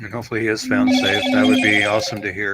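A telephone rings with a steady, repeating electronic tone under continuous close speech, the ringing prominent through most of the stretch.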